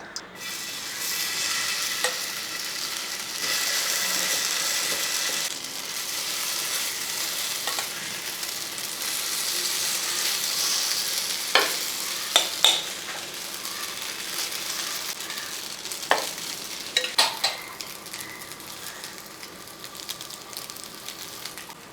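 A Kerala-style egg snack fries in a pan, giving a steady, close sizzle throughout with occasional light clicks and scrapes from a utensil.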